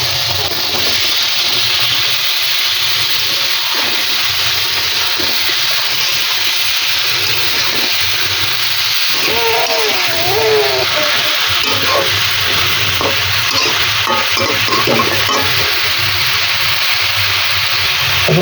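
Sweet pumpkin fries in a pan with a loud, constant broad hiss and sizzle, with occasional scraping knocks from stirring and a brief faint voice in the middle.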